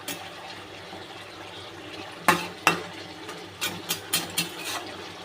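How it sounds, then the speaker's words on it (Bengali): Pieces of pomfret fish turned in a pan of thick sauce, a low bubbling bed broken by a few loud wet clatters and a quick series of spatula knocks near the end, close by. "এবারে মাছগুলো দিয়ে দেবো। একটু নেড়ে ছেড়ে দেবো যাতে রসটা একটু গায়ে লেগে যায়।"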